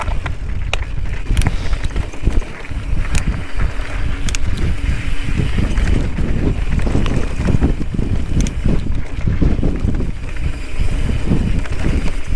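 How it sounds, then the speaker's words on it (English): Strong wind buffeting the microphone on a clear mountaintop during a mountain bike ride in Pacifica, California, a loud continuous rumbling roar with gusty fluctuations throughout and no voices. "It is windy up here."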